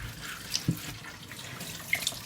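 Tap water runs steadily into a kitchen sink where a yam is being washed for porridge, a soft, even wash of flow with a few faint drips and clinks.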